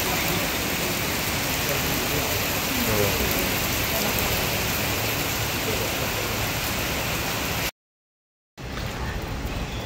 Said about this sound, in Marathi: पाऊस बघा किती लागतोय